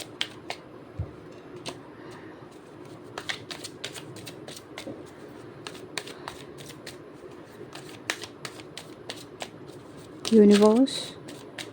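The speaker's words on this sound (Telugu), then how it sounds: "కార్డ్స్ షఫుల్ చేసేటప్పుడు అన్నీ ఎట్ ఏ టైం" Tarot cards shuffled by hand in quick, irregular riffling bursts and snaps, close and fairly quiet, with a brief spoken word near the end.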